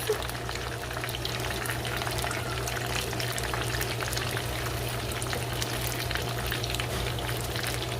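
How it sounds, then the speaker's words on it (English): Chicken wings frying in oil on a stove top, giving a continuous, even sizzle and crackle that holds steady throughout along with a low hum. "Just so they can fry a little."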